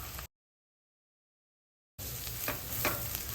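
Besan (gram flour) roasting in oil with softened onion, garlic and ginger for spicy paneer bhurji, stirred in a pan; a steady sizzle with a couple of scraping stir strokes, cut off by a long silent gap before resuming.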